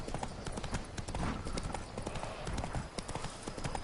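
A horse galloping in The Witcher 3 video game, hooves pounding in a fast, steady, close rhythm that fills the whole stretch, with little else over it.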